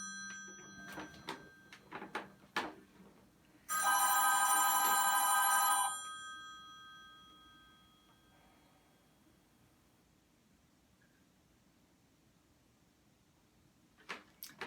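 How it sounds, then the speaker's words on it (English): A telephone rings once in a room where cello practice is happening. The ring is a loud, bright electronic burst of about two seconds, followed by a long fading tail. Scattered knocks and faint plucked sounds come before it, and a soft tap comes at the end. "Sorry about the ringing."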